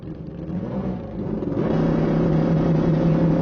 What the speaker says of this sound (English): John Collins will be coming on the right-hand side on the 13 Suzuki 1720 cc's of DTM